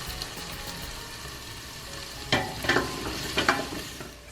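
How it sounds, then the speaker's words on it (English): Carrots, celery and onions sauteing in a pot, a soft steady sizzle joined near the end by a few sharp scraping stirs of a spoon. "now that everything is sauteing, the carrots and the celery and onions will take the longest"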